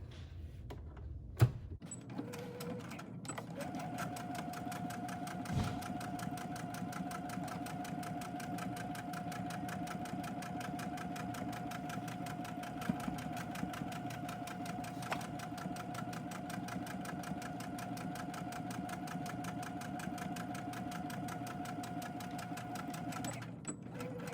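A sewing machine back stitches a children's cloth face mask: a click and thump, then a fast, even run of needle strokes whirring steadily for about twenty seconds before stopping, close and moderately quiet.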